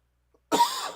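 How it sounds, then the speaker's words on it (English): A man with a lingering chest cold gives a single sharp, close cough after a moment of quiet, breathy and rasping as it trails off. "Excuse the cough."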